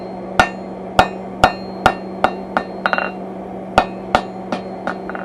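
Forging a custom mantle hook, a hammer strikes hot steel to draw out a taper. About a dozen loud, sharp, ringing blows land close by at an uneven, roughly half-second pace, with a short quick cluster midway and no talking.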